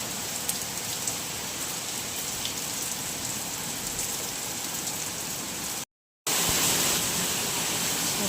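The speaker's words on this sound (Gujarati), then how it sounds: "વરસાદનું આગમન આજ થયું અને સારું એવું થયું" Heavy rain pours down at a hospital during a sudden downpour, a dense, steady hiss of drops hitting surfaces that runs throughout and cuts out for a brief moment near the end.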